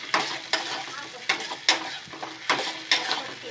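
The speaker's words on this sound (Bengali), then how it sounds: "এবার দিলাম আদা রসুন পেস্ট ঢেলে, এবার ভালো করে একটু নাড়িয়ে চাড়িয়ে কষতে থাকবো।" Ginger-garlic paste fries in a pan with a steady close sizzle, broken by several sharp scraping strokes of a spatula stirring at irregular intervals.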